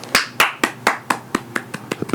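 Sparse, polite golf clap for Tiger Woods finishing last at the Masters: about a dozen crisp, evenly spaced hand claps, close and fairly loud, slowing and softening slightly toward the end, with no voices.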